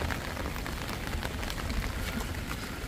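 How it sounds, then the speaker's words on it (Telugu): Heavy rain pours steadily and close by, a dense, even hiss of drops hitting surfaces that continues without a break, with no voices over it. "ఇప్పుడు ఫుల్ వాన, పెద్ద వాన."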